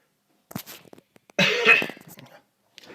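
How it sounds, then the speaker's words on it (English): A loud, harsh cough bursts out at close range, a single heavy hack with a brief rasping tail, set between faint clicks and quieter throat noises in an otherwise silent indoor room. "Please excuse my coughs."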